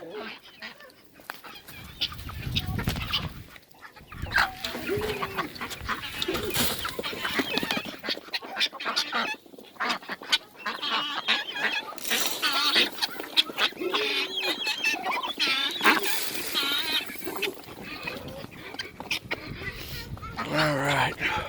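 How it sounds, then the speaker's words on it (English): Chickens cluck and squawk on and off throughout on a farm, with ducks and other poultry calls mixed in and people talking nearby over steady outdoor noise. "Chickens are happy."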